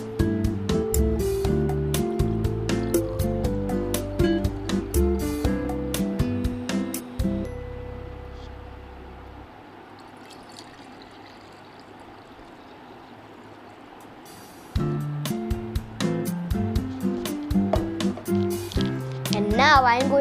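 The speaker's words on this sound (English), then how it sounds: "So first I am going to pour this hot water in one jar." Hot water is poured into a jar as a steady, hissing rush for several seconds, set between stretches of rhythmic background music.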